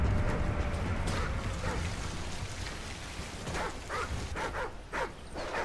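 Riley, a dog in the video game Call of Duty Ghosts, gives several sharp barks and yips over a steady rain-like background hiss, with the barking clustered toward the end.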